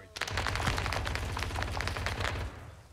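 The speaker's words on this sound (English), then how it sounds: "That was a fucking fatty MG, what is that? MG42 down." An MG42 machine gun fires in rapid, continuous bursts during an ArmA 3 S.O.G. Prairie Fire combat operation, loud and dense for about two and a half seconds before it cuts off.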